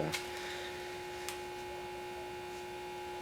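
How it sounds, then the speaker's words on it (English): A steady electrical hum drones continuously at low level, with a couple of faint clicks near the start. "You might be able to hear that hum too. That's just the battery charger."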